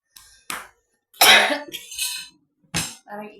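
Several close, dry coughs in a short irregular series, sharp bursts separated by silence, the middle one the loudest and longest.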